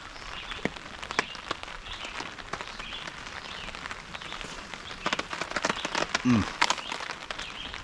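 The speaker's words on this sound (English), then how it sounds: "It's raining out there." Steady rain patters on a surface at a campsite at 6,000 feet during a thunderstorm, with scattered louder drops and a brief low rumble of distant thunder near the end.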